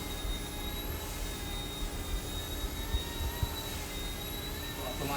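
An Eachine E120 RC helicopter whines steadily with a high-pitched motor and rotor drone as it comes in to land outdoors in gusty wind, with wind rumble underneath throughout.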